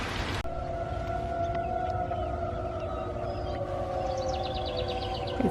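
A distant civil defense siren wails in a long steady tone across the whole stretch during a rain break, with faint chirps and a soft background hum.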